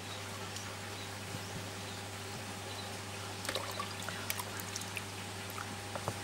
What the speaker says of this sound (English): I'll just pop these here in the water while we get the other color